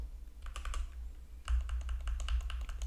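Rapid clicks of keystrokes on a computer keyboard, close and crisp, come in two quick bursts of typing with a short pause between them and no voice.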